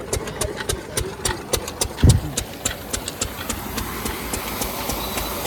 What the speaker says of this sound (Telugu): ఇది ఆ ఇంజిన్ వచ్చేసి 8 HP హార్స్ పవర్ గల డీజిల్ ఇంజిన్ అంటండి